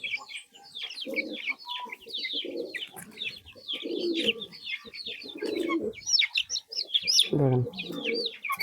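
Pigeons coo in low repeated bursts over a dense chorus of chirping birds and clucking chickens close by.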